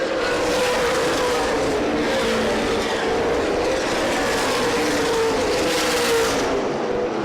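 CRA Super Series stock cars race at Winchester Speedway, a loud, dense roar of several engines holding steady throughout as the pack thunders around the oval.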